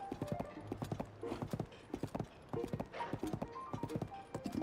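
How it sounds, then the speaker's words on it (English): A big horse in The Legend of Zelda: Tears of the Kingdom trots with steady, close hoof clip-clops, the hoofbeats coming in quick bursts with a brief snort or whinny mixed in. "It's just a big old horse."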